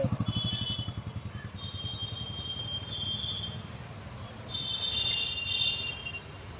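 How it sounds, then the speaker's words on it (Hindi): A Royal Enfield Bullet motorcycle pulls away slowly, its low thumping exhaust pulsing at first, then easing into a steady idle-like drone, with shrill insect-like chirps rising over it in bursts. "धीरे धीरे एक्सीलेटर देना है और धीरे धीरे क्लच छोड़ेंगे। ये देखिए, ये आराम से बुलेट चलिए"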